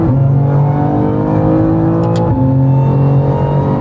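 BMW M2 CS engine pulling hard on the Nordschleife, a loud, steady in-car drone of rising harmonics that dips briefly mid-way and then climbs again, with no talking.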